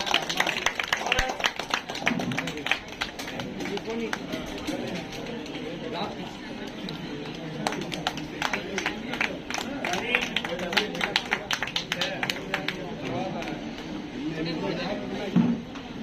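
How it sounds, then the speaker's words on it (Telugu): A crowd at a Janasena Party joining event in Gannavaram claps in repeated bursts of dense applause throughout, with a voice speaking over it. "క్లాప్స్"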